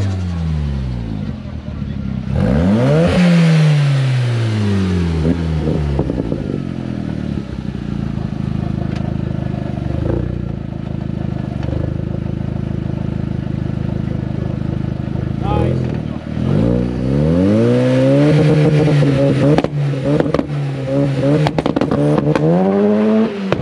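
A 20-valve turbo-swapped Toyota MR-S launches hard, its engine revving up loudly and sweeping through rising gears close by, easing off, then pulling hard again near the end.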